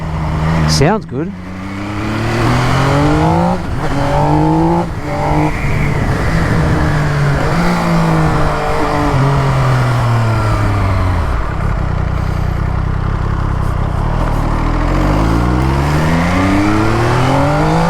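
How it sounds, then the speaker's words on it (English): MV Agusta Rivale 800 motorcycle on a ride, its engine loud and close, climbing through repeated rising revs and gear changes with sweeping pitch, while a rider talks over the sound. "Beautiful induction sound."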